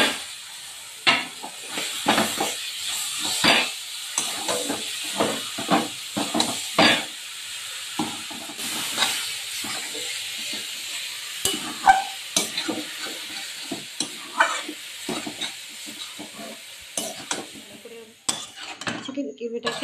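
Chicken mince being fried and stirred into masala in a pan, with repeated scrapes and clinks of a spatula against metal over a soft, continuous sizzle, close up and moderately quiet, no speech.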